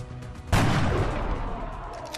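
Sniper rifle shot in the video game XCOM Enemy Within, a single sharp loud crack with a boomy blast that rings out and decays over the following seconds, no talk.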